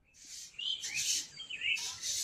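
Small birds chirp and tweet in the early morning in a village, several bright, quick calls close by over quiet background.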